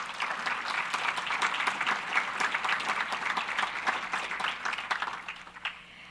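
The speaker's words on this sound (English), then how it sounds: "Please, let's give them another round of applause." Sustained audience applause at a conference welcome session, many hands clapping steadily at moderate volume for about six seconds, then thinning out near the end.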